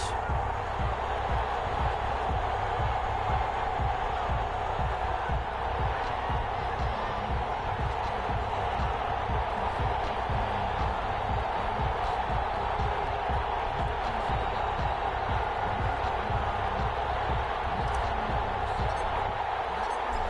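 Stadium crowd noise from an NFL football video game on PS4, a Chicago Bears versus Detroit Lions Thanksgiving Day matchup in Detroit; a steady, dense roar of fans continues without a break for the whole stretch.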